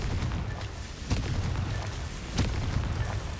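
Confringo blasting spells detonating in Hogwarts Legacy, two sharp booming bursts about a second apart over a steady low rumble of game ambience.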